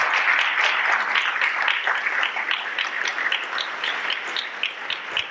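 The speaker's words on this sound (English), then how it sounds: "So can I get a round of applause for these partners and all the rest?" Sustained audience applause from a crowd at a museum and library awards press conference, dense steady clapping filling the room throughout at moderate loudness.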